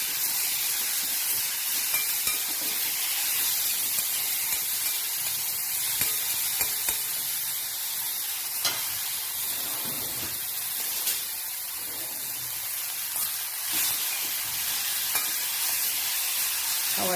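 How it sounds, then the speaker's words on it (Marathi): A ground spice paste is sautéed in a pan over low heat with curry leaves, giving a continuous close hiss and sizzle and occasional faint stirring scrapes throughout. "हा वाटलेला मसाला थोडासा व्यवस्थित परतून घेऊ।"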